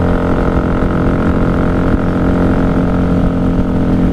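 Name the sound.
1994 Honda Magna 750 motorcycle engine riding on highway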